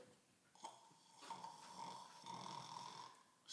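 A person imitating snoring after eating a big, heavy taco lunch, a soft rasping drone with a steady nasal tone that swells over a few seconds, faint and close, with no other talk.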